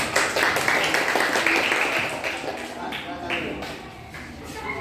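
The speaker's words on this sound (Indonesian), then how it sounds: "tepuk tangan untuk kelompok 5" Classroom applause for a student presentation group, a brief burst of many hands clapping at moderate distance, fading over a few seconds with voices mixed in.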